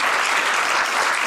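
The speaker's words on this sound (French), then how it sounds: "je vais vous demander aussi de les accueillir par une bonne main d'applaudissements" Audience at a twentieth-anniversary gala of a regional authors' association applauds steadily, a dense, even wash of clapping filling the room throughout with no pause.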